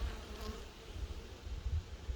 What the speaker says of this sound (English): Bees everywhere. They done found me.